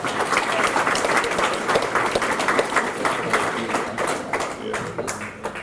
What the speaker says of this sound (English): Give Nevaeh a round of applause.